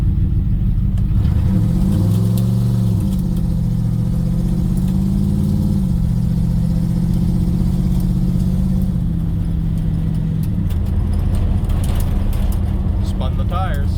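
A 1956 Dodge Regent with a 5.2 liter V8 accelerates hard from inside the cabin, its engine rising steadily in a loud, continuous roar with a brief tire spin, while a voice is heard over it.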